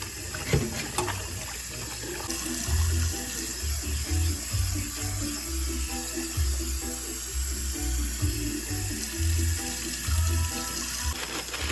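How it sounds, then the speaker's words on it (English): Rice is washed at a sink under running tap water, a steady, continuous rushing and splashing that lasts the whole stretch with a low rhythmic thumping beneath it. "So right now I'm washing my rice."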